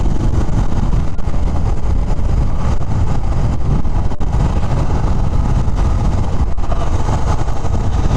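A 2020 Royal Enfield Classic 350 BS6 motorcycle pulls at full throttle in third gear around 60 km/h, its steady engine drone blended with heavy rushing wind noise, continuous and loud throughout with no talking.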